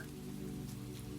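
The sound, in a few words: rain falling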